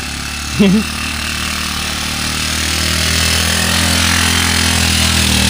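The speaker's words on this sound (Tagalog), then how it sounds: "Sinubukan na namin yung motor." A small motor for a farm sprayer runs steadily and close, a constant droning hum with a brief voice-like chirp near the start.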